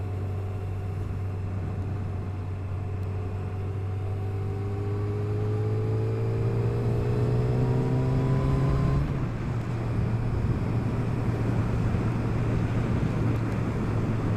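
A motorcycle engine revs up with a steadily rising drone, then drops in pitch as it shifts up a gear and keeps pulling, loud and close throughout.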